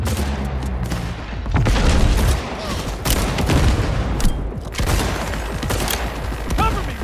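Loud, dense video game gunfire, with bursts of rapid shots, heavy booms and mechanical clatter continuing without pause, plus brief faint voices underneath.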